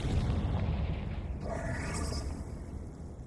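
A Confringo spell in the Hogwarts Legacy game goes off as a loud, close, low rumbling explosion that dies away into a fading whooshing tail.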